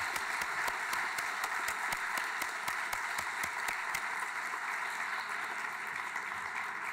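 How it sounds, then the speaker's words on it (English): An audience at a neuroscience panel evening applauding the panelists, a steady wash of many hands clapping, moderately distant and sustained for the whole stretch, fading slightly at the end. "let's give a huge round of applause to our amazing panelists."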